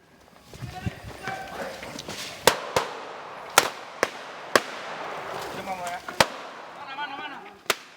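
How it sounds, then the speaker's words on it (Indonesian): Police fire warning gunshots while chasing a robbery suspect: around eight sharp, loud cracks go off at irregular intervals over a busy outdoor scene with voices shouting and people moving. "Polisi melepas tembakan peringatan saat mengejar perampok sadis yang hendak kabur."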